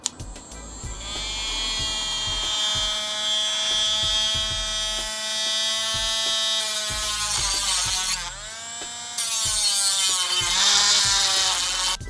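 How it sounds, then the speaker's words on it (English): A high-speed drill enlarging the bolt holes in a brake rotor during rear axle prep on a 1971 Chevrolet Nova, a sustained whining drone with steady harmonics that shifts pitch as it bites and eases, close and loud throughout. "And then we'll drill out those holes to be larger."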